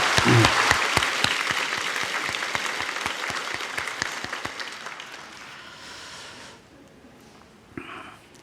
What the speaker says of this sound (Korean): 우리 감사의 박수를 드리겠습니다